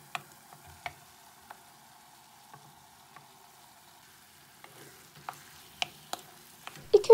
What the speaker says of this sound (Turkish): Bir iki dakika salçayla da kavurduktan sonra ezdiğim patatesleri ekliyorum.